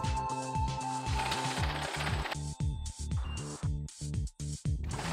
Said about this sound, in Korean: 백 버튼을 누르고 원하는 매수를 숫자 키로 누르면 지폐를 지정한 숫자만큼 개수합니다